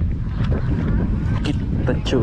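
Strong wind buffets a microphone outdoors at a spot for micro casting with a tiny rod and bait, a loud continuous rumble and roar, while someone speaks briefly over it.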